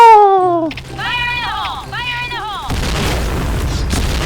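Deep, booming blasts ring out in a game scene, with a sustained rumbling roar of debris after the final explosion.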